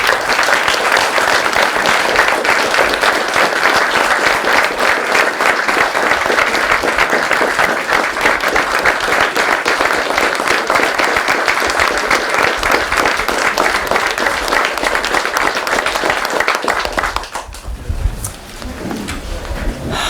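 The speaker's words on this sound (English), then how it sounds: "if you give an applause to all of these people." Sustained, dense audience applause at a Lions Club pavilion dedication, loud and steady for about seventeen seconds before breaking off abruptly into quieter room noise.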